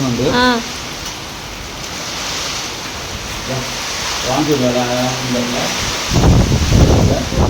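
Steady hiss of heavy rain spraying in through a window of a house fills the clip, with a few voices speaking over it and a burst of louder talk near the end.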